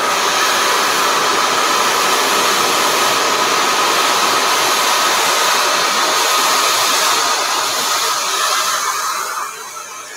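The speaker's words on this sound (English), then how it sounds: "excuse me for 1 second while I turn on my blow dryer" A blow dryer runs loud and close at the salon, making a constant airy roar that holds steady for about nine seconds and then drops off at the end, with no talking.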